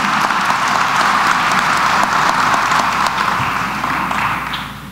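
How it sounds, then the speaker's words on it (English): A large commencement audience at the St. Francis College 2010 winter graduation breaks into a loud, dense round of applause that holds steady, then gradually fades toward the end. "let's give them a round of applause as well"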